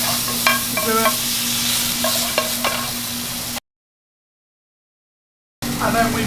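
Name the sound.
garlic tomato paste frying and stirred in a pan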